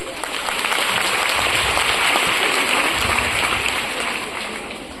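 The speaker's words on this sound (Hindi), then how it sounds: "तो खुद के लिए एक ताली बजाइए" A large university audience claps in a sustained, dense burst of applause that swells and fades over several seconds, filling the hall without any voices over it.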